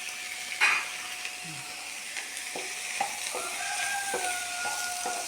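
Crushed ginger and garlic frying in a pan give a soft, steady sizzle, with a few sharp stirring clinks and scrapes close by.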